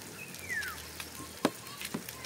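Food frying in a pan outdoors beside a river, a steady soft sizzle running throughout with a few brief clinks and a faint whistling tone early on.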